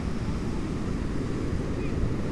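Atlantic Ocean surf at Smith Point rolls in as a steady, broad wash of waves mixed with wind buffeting the microphone, continuous and fairly close with no distinct breaks.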